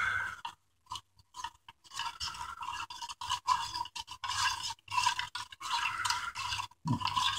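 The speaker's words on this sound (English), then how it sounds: "Now let's mix this up real quick." A quick mixture is stirred in a cup or bowl, making close, gritty scraping and swishing strokes in uneven bursts broken by brief pauses, with no talking.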